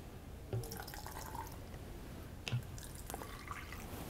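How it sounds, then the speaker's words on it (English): Faint drips and small liquid splashes, with a couple of sharper plinks, as deionized water is poured into a solid-phase extraction cartridge for an oil and grease lab extraction. "Now we're going to add some deionized water because we need to get rid of the methanol."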